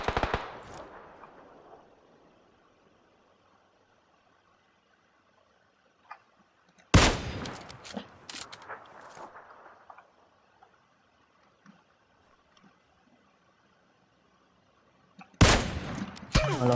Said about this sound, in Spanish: Están recagando a tiros.